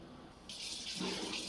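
Water running and splashing into a pot on a home stove while making masala tea, a steady bright pour starting partway through and continuing to the end, fairly faint.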